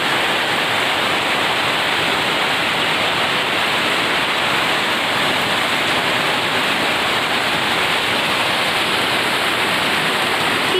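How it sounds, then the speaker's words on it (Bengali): Heavy rain pours down steadily on a monsoon day, a dense, continuous hiss of downpour that stays loud and even throughout with no voices. "দেখো কীরকম বৃষ্টি হচ্ছে, দারুণ।"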